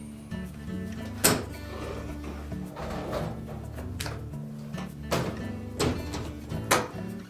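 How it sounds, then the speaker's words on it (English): A Frigidaire dishwasher door is opened and its lower rack pulled out, giving several close plastic-and-metal clunks and sliding rattles spaced across the stretch over a low background hum. "you may also want to open the door up and remove the lower rack as well"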